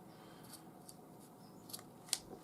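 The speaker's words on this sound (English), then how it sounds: "cut the remaining 2 off with a pair of scissors" Scissors snip through the leftover strands of a handmade multicolor twin knotted bracelet: a few quiet, sharp clicks spaced apart, the last one loudest, over a soft room hush.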